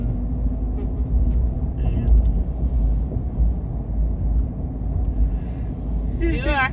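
Car driving into Greenville, South Carolina, heard from inside the cabin as a steady low engine and road rumble, with faint brief higher tones near the end and no talk.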